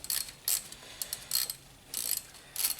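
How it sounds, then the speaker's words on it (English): A ratchet gently runs bolts in by hand on a 1999–2004 Volvo S40 petrol engine during a timing belt job: short bursts of light clicking, five or six brief runs with quiet gaps, close and alone. "I'm going to try and very gently run them in with the ratchet now."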